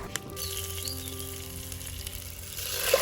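Curry leaves and asafoetida crackle in hot oil, a bright burst at first settling into a continuous close sizzle that swells again at the end, with no voices.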